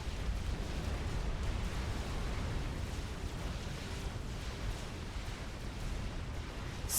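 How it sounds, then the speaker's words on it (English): Scathis artillery in Supreme Commander: Forged Alliance Forever lets off its first shells in a continuous heavy rumble of distant booms, low and sustained throughout with no clear separate shots. "Does have the Scathis complete, about to fire its first round of shells, and those first rounds are gonna head south"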